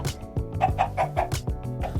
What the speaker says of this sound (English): These are some boring chickens.